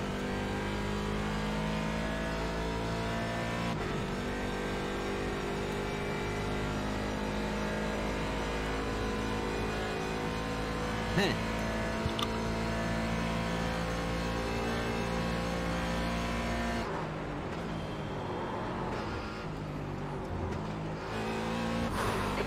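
Race car engine in the iRacing sim at Daytona during a 24-hour endurance race, a loud, continuous high-revving drone with gear-change dips and a shift in tone near the end.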